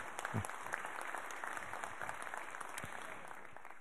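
Applause at a reception honouring the Auvergne-Rhône-Alpes regional trades team of medal winners, a steady dense patter of many hands clapping throughout, moderately quiet and somewhat distant, with a faint voice briefly audible.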